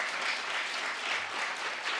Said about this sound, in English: Can we have a round of applause for Lisa, our voice of God, all day?